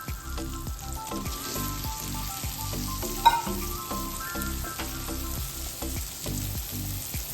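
Ridge gourd (dodka) frying in a pan for a Marathi bhaji, with a steady bright sizzle and frequent stirring scrapes and taps of a spatula, close and continuous, with no voices.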